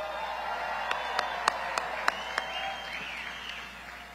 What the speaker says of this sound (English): Let's give that young lady another round of applause.